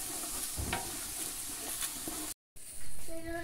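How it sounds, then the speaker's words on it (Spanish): Chopped onion sautéing in a hot pan for a Cobán-style chirmol soup, a steady crackling sizzle broken by brief stirring scrapes, with a short gap of silence before the frying resumes. "ya se sofrió la cebolla"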